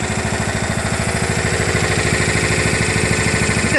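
A John Deere LA105 lawn tractor engine idles steadily and loudly up close, its fast even pulsing running unbroken throughout with no voices over it.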